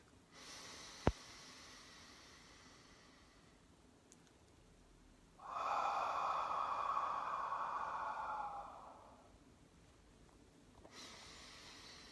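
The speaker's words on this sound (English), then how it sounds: "Deep breath." One long, deep breath during a guided meditation for worry: a soft, steady airy rush lasting a few seconds and standing out from a quiet, hushed background, with no one speaking.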